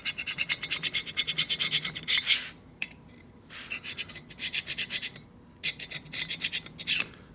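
Paint and rust are scraped off a 1980 Harley-Davidson Shovelhead cylinder, loud close rhythmic rasping strokes in quick bursts, with short pauses between sets.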